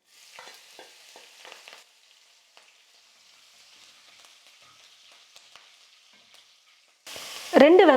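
Green chillies fried in hot oil with urad dal and chana dal, a soft crackle and a few stirring scrapes early on, then a quiet stretch and a sudden loud burst at the end.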